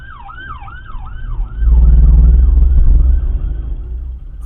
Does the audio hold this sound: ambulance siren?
yes